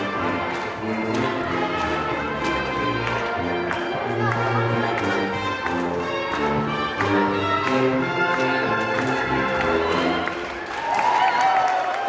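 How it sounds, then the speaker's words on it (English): A New Orleans-style jazz band leads the opening procession of a Jazz Mass at West End United Methodist Church, horns and drums playing a steady, full-bodied tune with crowd sounds beneath, swelling slightly near the end. "That's the sound of the opening procession of Jazz Mass at West End United Methodist Church last night."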